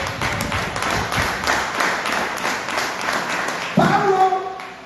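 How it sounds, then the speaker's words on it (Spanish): Congregation applauding during a church service, a dense wash of clapping that keeps a steady level and then grows a little louder near the end as a sustained tone enters. "Denle un aplauso a Dios, hermano."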